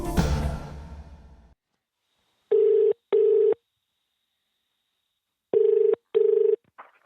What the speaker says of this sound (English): I've been trying to get Suzanne back on the phone